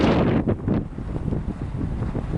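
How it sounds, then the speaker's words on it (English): Strong wind buffets the microphone at the top of Wind River Canyon, a steady loud roar with gusty swells and no voices. "I don't know if you can hear it over all the wind"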